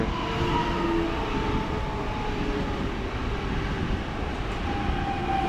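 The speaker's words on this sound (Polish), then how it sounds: "Kolejny skład szybkiej kolei miejskiej w Warszawie do Piaseczna, linia S4." A Warsaw SKM line S4 commuter train bound for Piaseczno passes close by, with a loud, continuous rumble and rolling wheel noise holding steady throughout, no voices.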